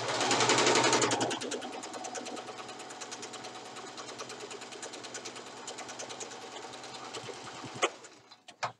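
A sewing machine stitches a long seam in pajama pants, starting with a louder burst and then running at a steady rapid clatter for several seconds before stopping with a small clunk and a few light handling clicks.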